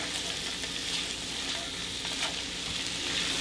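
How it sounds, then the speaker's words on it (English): Bite-sized steak pieces fry and get stirred in a pan, giving a steady, loud sizzle throughout with occasional scraping from the stirring and no talk. "Okay, in with the meat. All right, like I said earlier, I'm just going to simply stir this all in."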